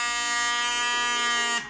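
A repaired battery-powered hair trimmer motor runs with a steady, loud electric buzz for over a second, then cuts off and winds down abruptly.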